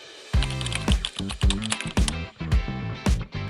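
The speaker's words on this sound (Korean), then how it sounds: "효과음까지 들어간 멋진 타이핑 효과가 완성되었습니다." Rapid mechanical keyboard typing, a close, crisp clatter of keystrokes in uneven bursts with brief pauses, no voices.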